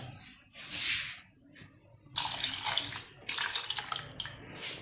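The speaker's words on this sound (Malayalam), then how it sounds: "അതേ കപ്പിൽ ഒരു 2 കപ്പ് ഞാൻ വെള്ളം ഒഴിക്കാൻ പോവാണ്." Water is poured into a pot for tomato clear soup, coming in bursts of splashing and running flow, loudest in the latter half, with short quieter pauses between pours.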